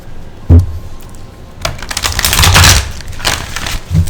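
A deck of cards being shuffled: one snap, then a long rapid riffle of flicking cards, close and loud, ending with another tap.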